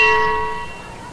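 A cow bell is struck once, a bright metallic clang with ringing overtones that decays steadily over about a second, heard alone and close.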